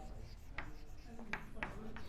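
Marker or chalk strokes on a board during a lesson, a few short scratchy squeaks and rubs, faint under a teacher's speech and room hum.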